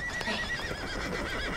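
A horse on a reservation ranch, owned by a former rodeo champion horse trainer, lets out a loud, close whinny with a wavering pitch over a second and a half, with a faint clip-clop beneath.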